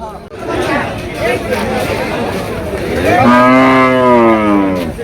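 A bull lets out a long, deep moo close by at an Eid livestock market, rising over the murmur of a chattering crowd.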